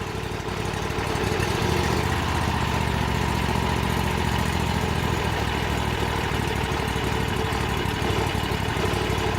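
A small boat engine, not yet broken in, idles steadily and close by, with a low continuous rumble and a faint rattling running through it, no voices.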